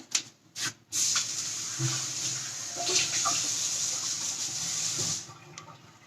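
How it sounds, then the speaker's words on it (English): Tap water running steadily in a kitchen sink while seeds are rinsed out of a red bell pepper, following a few short splashes at the start and tailing off near the end. "So there's a few seeds in there. I'm just going to rinse it."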